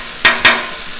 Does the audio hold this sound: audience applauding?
no